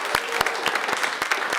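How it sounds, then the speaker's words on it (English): An awards ceremony crowd at a B2B marketing awards night claps, distinct loud claps standing out in a short, lively burst of applause. "Give yourself a round of applause."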